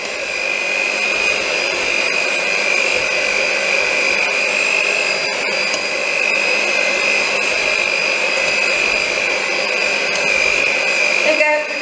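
An electric whisk runs steadily, mixing gingerbread batter with eggs in a bowl; a continuous close-up motor whine holds for the whole stretch without pause.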